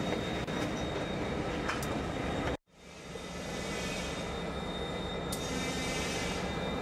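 A train on the Miami subdivision at Auburndale, Florida rumbles steadily nearby as it approaches a railroad crossing, with a constant hiss and a faint high whine, briefly dropping out before the rolling noise resumes.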